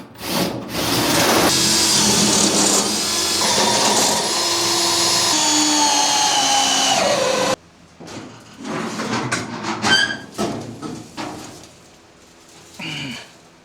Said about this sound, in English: Now I'm drilling my holes.